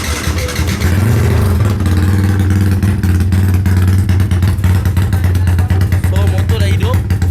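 A Yamaha RXZ motorcycle engine runs steadily close by, a loud, continuous mid-pitched hum with slight unevenness throughout, while people talk over it.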